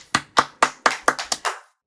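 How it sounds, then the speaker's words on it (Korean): Hand clapping: seven sharp, close claps in a quick, slightly uneven rhythm, alone with no voices. "박수 한번 치고 가시죠."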